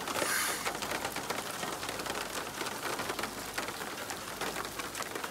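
Steady rain falls on a surface at a riverside fishing spot in Australia's Fitzroy region during the buildup season, a dense continuous patter with scattered nearer drops, no voices.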